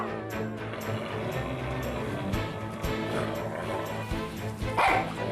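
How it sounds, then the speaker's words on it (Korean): A mother dog named Joa barks and growls at her six newborn puppies as they approach to nurse, with repeated close, loud barks over a steady background bed. "이빨까지 드러내며 짖는 조아"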